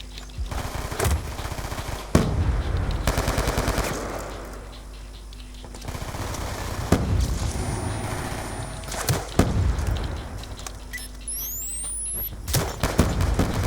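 Automatic gunfire and single shots in a Call of Duty Black Ops 2 multiplayer match against bots, with rapid bursts and sharp cracks repeating loudly and close throughout, broken by brief gaps and a few thuds.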